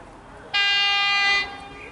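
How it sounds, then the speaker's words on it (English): A Melbourne express train passing a suburban station gives a single loud, sustained horn blast lasting about a second, sounding over quiet station ambience. "We've got an express train passing"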